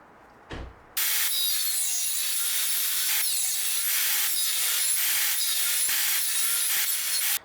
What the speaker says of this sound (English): it's time to cut a slot in the neck so that we can glue in the neck tongue